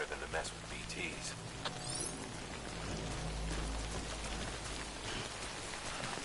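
Steady rain from the Death Stranding 2 video game patters on surfaces in a dense, even hiss, soft and constant throughout, with quiet talking running over it.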